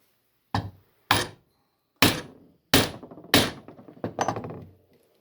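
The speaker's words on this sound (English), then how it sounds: "You can't just drive your chisel all the way to full depth right now" Mallet striking a chisel while chopping a chair mortise, six sharp close blows at uneven intervals, the last followed by a few quicker lighter taps.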